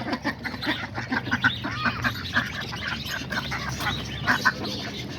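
Around ten ducks splash about in their water in a backyard flock kept with chickens, quacking repeatedly and overlapping at moderate distance. The splashing is low and continuous.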